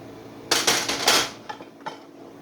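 Metal cutlery rattles and clinks as a fork is pulled from a kitchen drawer, a dense burst of jangling followed by two lighter clicks, close and fairly loud with no talking.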